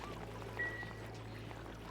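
Water spills and pours in the colony-building game Oxygen Not Included, a steady soft stream and trickle running under low background hum without pause.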